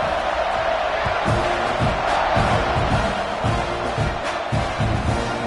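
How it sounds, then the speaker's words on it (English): A packed football stadium crowd in the LSU vs Texas A&M game roars and cheers before the kickoff, a dense continuous wall of noise with chanting pulses and whoops. "They're set to kick it off, and this crowd now ready to get behind them."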